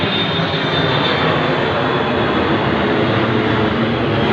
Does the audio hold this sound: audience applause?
no